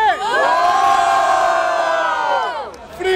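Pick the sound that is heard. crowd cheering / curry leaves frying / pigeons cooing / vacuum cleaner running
crowd cheering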